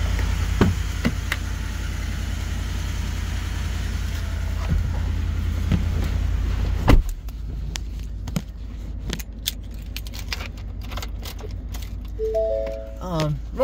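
A remote-started 2020 Ford F-150 runs on a cold start, a loud, steady low rumble that drops abruptly to a quieter idle midway, with scattered clicks and knocks close by.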